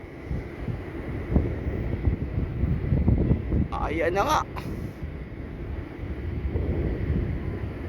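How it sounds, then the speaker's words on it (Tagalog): Strong wind buffets the microphone outdoors during kite flying, with a heavy, rumbling roar, while a person speaks briefly over it. "Ayan, lumakas yung hangin."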